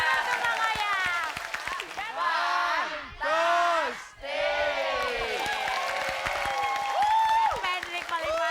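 Studio audience clapping and cheering on an Indonesian comedy show, a loud sustained burst of applause with whoops. Voices shout and talk over it, and the noise briefly drops before swelling again.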